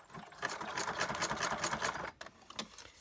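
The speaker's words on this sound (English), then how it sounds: "And now I'm going to go to a zigzag stitch." A sewing machine runs a zigzag stitch on fabric scraps, a quiet, fast, even whirring with fine rhythmic clatter that stops briefly near the end, then resumes.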